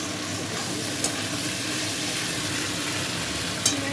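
Chicken sizzles steadily in a hot pan for chow mein, a continuous close hiss of frying broken by two brief sharp clinks of a utensil as it is stirred.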